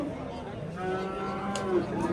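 A cow lets out a long, drawn-out moo close by, with a busy livestock market murmur in Angren and other animal noise, including calves, around it.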